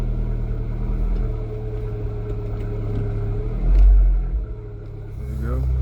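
An Abarth 595C Turismo with a 1.4 turbo engine idles with a steady low rumble, then the engine note swells briefly as it moves off in reverse, close and loud, with a voice speaking over it.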